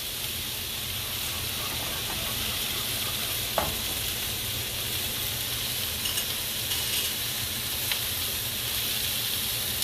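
Butter and grits sizzling in a pan on the stove, a steady close frying hiss with faint stirring clicks and no voices.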